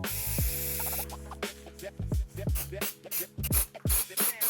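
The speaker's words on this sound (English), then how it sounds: "we're going to go ahead and grab some brake clean and clean up all the surfaces" Brake cleaner sprays onto the steering head surfaces of a Harley-Davidson in short hissing bursts, several separate sprays of varying length, close and clear with brief gaps between them.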